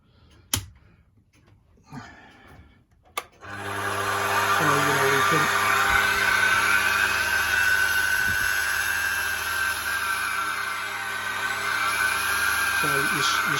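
A variable-speed motor on a clock repairer's milling machine switches on after a few clicks and runs as a steady, loud, even whine that holds to the end.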